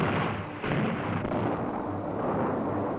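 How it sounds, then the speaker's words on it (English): A dynamite blast in canyon rock roars as a loud, deep rumble with a brief dip and then a renewed surge, sustained and heavy throughout without any voices. "they drilled holes in the rock and loaded them with dynamite"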